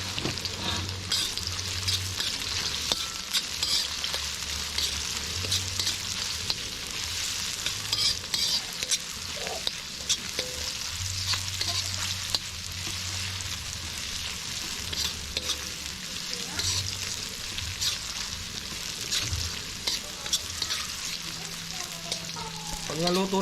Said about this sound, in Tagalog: mag-start na tayo mag-gisa. Pagsabay na natin ang bawang at sibuyas.